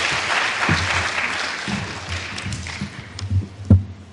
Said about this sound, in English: why don't we give a round of applause for our Dean, Leslie Fenwick